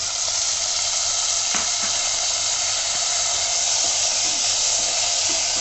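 Chopped tomatoes hit golden-fried onions in a pan over medium flame for a Sindhi-style turnip and peas curry, giving a loud, steady sizzle and hiss with faint stirring clinks.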